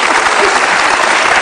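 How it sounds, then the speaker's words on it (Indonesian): A studio audience at an Indonesian televised political talk show breaks into brief, dense applause, loud and close, with the clatter of many hands filling the moment. "Oke, kita kasih tepuk tangan dong untuk keduanya."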